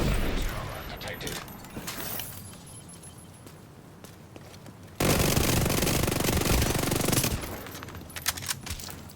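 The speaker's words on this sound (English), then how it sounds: "I'm shooting at 1440 rounds per minute" Rapid 1440 RPM automatic gunfire in The Division 2, a dense sustained burst roaring loud for a couple of seconds midway, surrounded by quieter game ambience and crackle.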